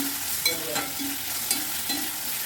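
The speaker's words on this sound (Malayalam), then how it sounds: "ഇത് രണ്ടും കൂടി വഴറ്റി നന്നായിട്ട് വഴറ്റിയെടുക്കുക" Sliced onions and green chillies being sautéed in a pan, a steady close sizzle broken by a few soft spatula scrapes and knocks, no talking.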